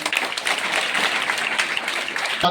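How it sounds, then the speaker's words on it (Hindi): A school event crowd applauds a student being honoured for her exam results, steady loud clapping from many hands that carries on throughout. "जोरदार तालियां रीना के लिए"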